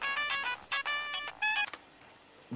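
A mobile phone rings indoors, a close, clear electronic ringtone melody of short bright tones in quick bursts that stops partway through, with no speech over it.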